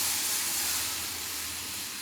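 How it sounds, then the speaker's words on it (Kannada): Water splashed into a hot tempering of chili powder, turmeric and coriander powder for Rajasthani dal gives a loud, continuous steamy hiss and sizzle that slowly fades a little, with no talking. "ಒಗ್ಗರಣೆಗೆ ಇವಾಗ ನಾನು ನೀರು ಹಾಕ್ತಾಯಿದ್ದೀನಿ"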